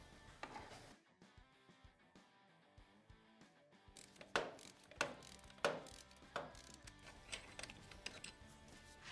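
Engine frame mounting bolts on a KTM 690 or Husqvarna 701 are loosened with a ratchet, giving a run of faint, quick clicks that sharpen into louder, close ratcheting bursts in the second half.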